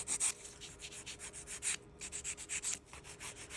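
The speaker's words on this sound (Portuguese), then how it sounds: "E aí é só lixar. Vou usar essa broca aqui, que ela não machuca a pele." Electric nail drill with a gentle bit filing the side of an acrylic nail extension, a close, steady rasping whir pulsing in short rhythmic strokes.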